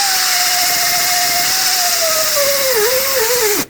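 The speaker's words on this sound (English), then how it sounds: "I'm going to use a little sanding disc" Small sanding disc on a power tool cleaning a Ford F-150 brake caliper bracket from a 1997–2003 truck, a loud continuous whine that dips in pitch near the end as it bears on the metal, then stops.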